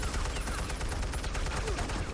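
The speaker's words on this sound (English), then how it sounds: "He shot his teammates." Rapid gunfire from a shootout in Batman: The Telltale Series, a dense, continuous fusillade of close, loud shots over steady low rumble with no talk.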